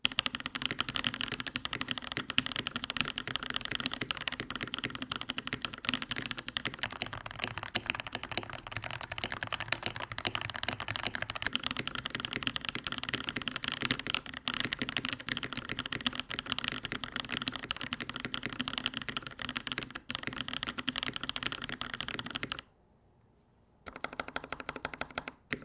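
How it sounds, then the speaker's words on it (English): Fast, continuous clacking of keys on an Azio Tera75 mechanical keyboard with a concrete case and DCX Hyperfuse keycaps, close and steady, with a brief pause near the end before typing resumes. "So the sound is much more like a custom keyboard instead of a pre-built."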